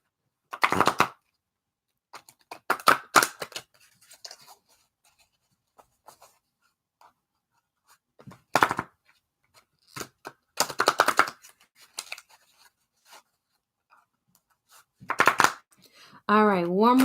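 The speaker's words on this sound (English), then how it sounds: "All right, one more good shuffle." Tarot cards being shuffled, brisk papery riffles and slaps in short bursts separated by pauses, close and fairly loud, with a soft voice speaking now and then between them.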